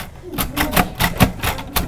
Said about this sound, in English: a Braille writing machine, which is similar to a typewriter for writing text in Braille